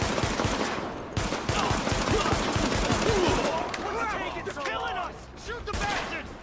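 Gunfire in the video game Tom Clancy's The Division, with dense, rapid bursts of automatic shots crackling loudly for several seconds as a voice talks over the fight.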